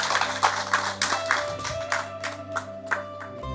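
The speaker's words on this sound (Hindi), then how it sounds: "जोरदार तालियां बजा करके एक बार स्वागत करते हैं" A village welcome for visiting gurus in Mandothi, Jhajjar, Haryana brings a burst of loud clapping from a gathered crowd, with sharp claps close by over a low steady hum.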